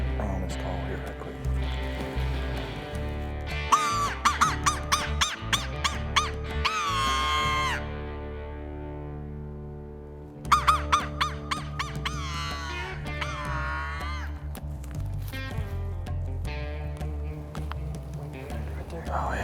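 A hunter in a field runs a turkey call to imitate Rio turkeys, giving two separate bursts of rapid, squeaky, high-pitched yelps and clucks, loud and close.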